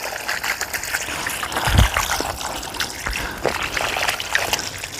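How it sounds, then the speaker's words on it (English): Water is poured from a bucket into a vertical garden, a continuous trickling and splashing stream with a brief heavier gush, close by and with no talking. "I'm going to water it."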